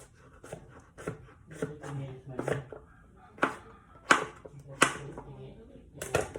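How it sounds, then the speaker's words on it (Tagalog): Knife chopping meat into small pieces on a cutting board for dinuguan, a run of sharp, irregular chops at close range, some louder strikes standing out, with faint background noise between. "Tsaka nating hiwain ng maliliit"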